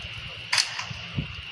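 A gunshot in the Roblox game 99 Nights, a single sharp crack fired toward monsters, followed by a softer low thump, heard over a quiet game background.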